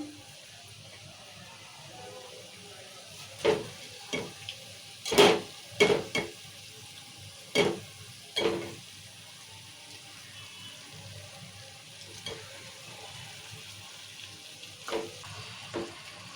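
Chicken pieces with turmeric and salt stirred in a pan for a village-style curry: a soft, steady sizzle underneath, broken by several sharp scraping stirs, some loud and clustered, others fainter and spaced out.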